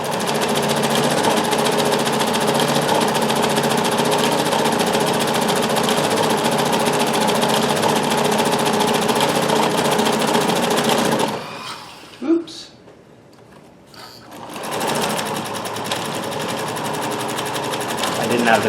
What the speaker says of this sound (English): So you can get very good, nice pattern stitching there.